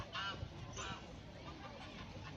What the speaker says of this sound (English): Oh, there's a goose here, there's a goose here, there's a goose here.